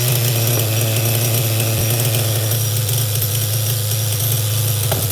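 A 2000 Duratrax Nitro Quake nitro RC truck engine running loud and steady, a buzzing high-revving drone with rattling mechanical chatter throughout.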